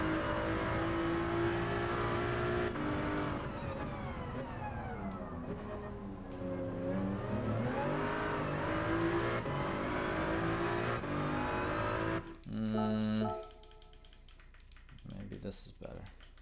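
A Porsche race car engine in Gran Turismo 7 at Spa at night drones loudly with a steady, shifting pitch that rises and falls through gear changes, over keyboard tapping and faint voice, then drops away near the end.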